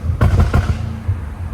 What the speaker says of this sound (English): Dude, it's popping loud today.